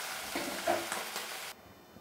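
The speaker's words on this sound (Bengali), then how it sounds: "বন্ধুরা, সব মাছগুলোকে আমি এইভাবে লাল লাল করে ভেজে নিয়েছি।" Small pona fish sizzle in a pan of oil with some stirring, a soft, close crackle for about a second and a half before it cuts off abruptly into near silence.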